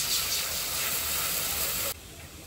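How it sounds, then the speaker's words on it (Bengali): Water poured into a hot wok for cooking red lentils gives a loud steady steam hiss that cuts off abruptly near the end, leaving a faint background. "কড়াইতে জল দিয়ে দিচ্ছি মুসুর ডালটা রান্না করার জন্য।"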